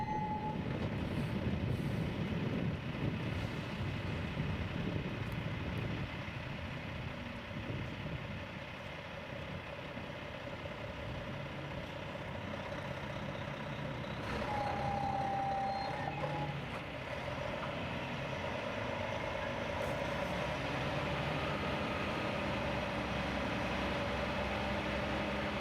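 A heavy transport truck moving a 320-ton floating gold plant manoeuvres with a steady low diesel rumble, distant and muffled, while a thin reversing beep sounds briefly partway through over constant background noise.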